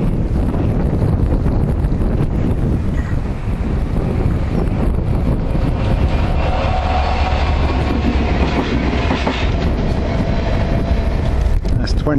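A Freightliner freight train carrying container boxes rolls past a level crossing at Aliwal Road, rumbling loudly and continuously with rhythmic clickety-clack from the wagons and heavy wind noise on the microphone.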